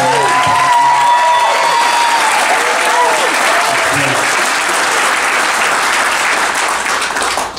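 Loud, sustained clapping from wedding guests for the bride at a reception, with a few voices calling out early before the applause carries on evenly and tails off at the end.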